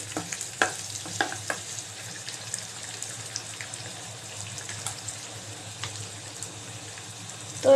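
Onions are stirred and fried until brown in a pan: a soft steady sizzle with intermittent scraping stirs, fairly quiet and close, with no talking.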